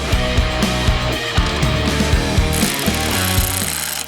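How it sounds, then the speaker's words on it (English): A ratcheting wrench tightens bolts with flat washers, lock washers and nuts on a Jeep Wrangler running board bracket, giving rapid repeated clicking strokes with metallic ringing that run steadily and close throughout. "Go ahead and secure each bolt with the flat washer, lock washer, and nut"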